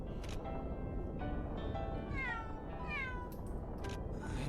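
Cat meowing in the Mana Khemia video game, several drawn-out rising meows repeated over a constant background of game music and ambience, fairly close and clear.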